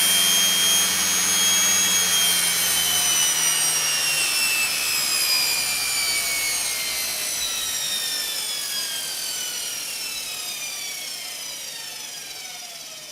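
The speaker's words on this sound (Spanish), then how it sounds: "vamos a apagar el motor" A washing machine motor running on a speed controller is switched off, its whirring whine sliding steadily down in pitch and fading as it spins down over several seconds, with no voices.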